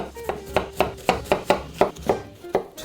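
A knife taps steadily on a cutting board in quick, even chops mincing onion, about four per second, close and clear with no talking.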